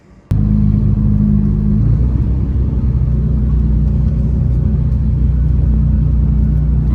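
A 1998 Lamborghini Diablo SV's engine drones loud and steady from inside the cabin while driving, a deep continuous rumble after a brief click at the start, with no talking.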